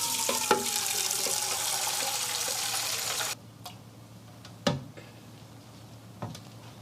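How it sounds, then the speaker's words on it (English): A glass fills with tap water for a home science experiment: a steady rushing pour for about three seconds that then stops, followed by a few sharp clicks and knocks in a quiet room. "Fill it with water."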